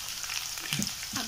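Onion and chili frying in a pan with a loud, steady hiss and crackle and a couple of brief stirring knocks, close and continuous.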